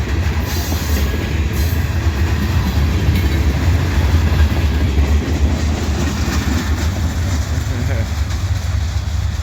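A freight train of covered hoppers, mostly three-bay with some four-bay, rolls past close by, loud steady rumble with rhythmic wheel clatter and occasional metallic squeal, continuing throughout.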